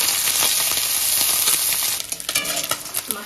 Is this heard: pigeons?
no